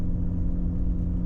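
A Ford Explorer with a check engine fault rolls around a yard, giving off a steady low engine rumble and faint whir, close and even for a brief moment.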